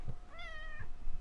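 A cat gives a single short meow up close, clear and drawn out over a low background hum.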